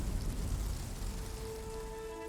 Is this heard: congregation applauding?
no